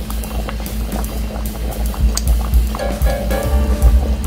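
Beef stew in a pot bubbles and burbles at a steady boil, with low rumbling bursts and soft popping near the pot throughout.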